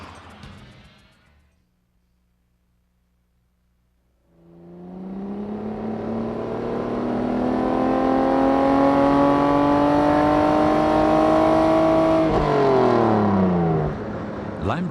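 A Lamborghini Diablo supercar's engine opens with a brief low idle, then swells into a loud, sustained rev whose pitch climbs steadily before easing off near the end, heard close and alone without talk.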